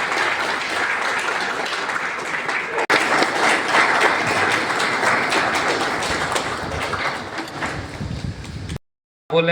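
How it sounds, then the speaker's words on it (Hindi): Loud, dense applause from a large crowd welcoming guests at a police lines ground event, a sustained burst of many hands clapping close by that cuts off abruptly near the end. "सभी लोग जोरदार तालियों से स्वागत करें"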